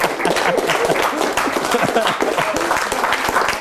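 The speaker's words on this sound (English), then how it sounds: "Let's give Fonz a big round of applause" Audience applause for a performer named Fonz, a dense wash of many hands clapping at steady volume with faint voices mixed in.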